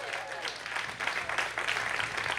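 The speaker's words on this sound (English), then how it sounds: "Give her a great big round of applause." A crowd applauds at a Georgia campaign rally in Statesboro, heard as a faint, steady wash of clapping from a distance.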